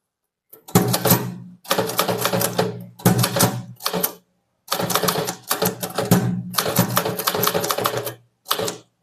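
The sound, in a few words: typing an English letter on a typewriter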